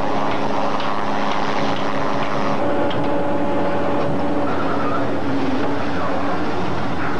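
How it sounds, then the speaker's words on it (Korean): Steady whirring helicopter rotor roar with a broad rushing wash over a tuna fishing vessel in the South Pacific, loud and continuous throughout, with faint indistinct voices underneath. "헬기 날개 바람까지 가세한다."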